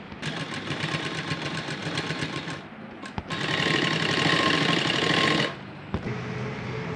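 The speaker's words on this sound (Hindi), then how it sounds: "फिर इसके ऊपर आप एक और सिलाई लगा लीजिए" An electric sewing machine stitches a seam on fabric for a girl's top, a close rapid whirring chatter in two bursts separated by short pauses and clicks.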